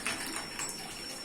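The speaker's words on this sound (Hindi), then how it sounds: "देखिए पानी भी भर गया पैन में।" Water pours into a cooking pan in a kitchen, a brief, faint, continuous hiss and splash.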